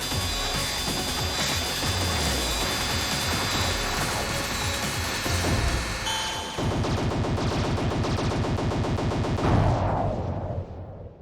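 Rapid-fire shooting at a boss core in the Salamander III shoot-'em-up keeps up a loud, continuous stream of blaster shots over driving game music, turning into a dense, fast-pulsing barrage midway before cutting off abruptly near the end.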